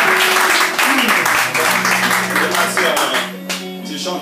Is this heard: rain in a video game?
no